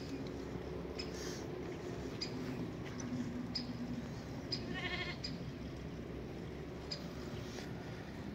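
Month-old lambs wander around a farmhouse, bleating in short scattered calls over a soft, steady outdoor background, some nearer and some farther off.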